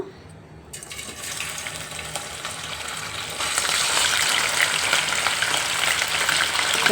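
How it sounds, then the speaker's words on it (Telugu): Chicken pieces frying in hot oil for a chicken masala curry, a steady broadband sizzle that starts abruptly as the meat goes in and grows louder and denser, with no voices. "ఆల్రెడీగా నేను ఆయిల్ అయితే వేసుకున్నానండి మనం చికెన్ వేయించి పెట్టుకుందాం"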